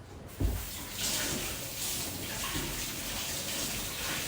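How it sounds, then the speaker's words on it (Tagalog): A tap runs steadily while vegetables are washed under it, giving a close, continuous splashing gush with slight changes as the stream hits the produce. "So, ganito ako maghugas ng gulay."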